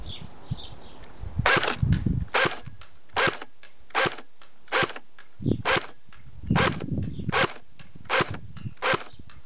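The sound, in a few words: CYMA 1928 Thompson airsoft gun firing single shots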